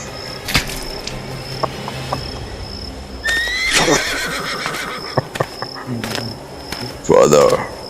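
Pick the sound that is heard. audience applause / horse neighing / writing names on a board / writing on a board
horse neighing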